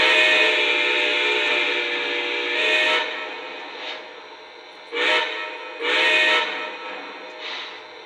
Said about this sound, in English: we're gonna go ahead and run through the 5 whistles here